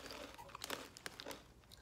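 Crunchy cheesy chip-like snack from a boxed assortment being bitten and chewed close up, a few sharp crunches over a brief stretch.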